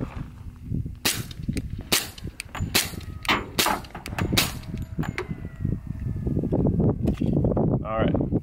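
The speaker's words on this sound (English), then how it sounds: "HK45 suppressed" A suppressed HK45 pistol fires five sharp, evenly spaced reports at close range, each a bright crack, followed by a stretch of mixed background noise without further shots.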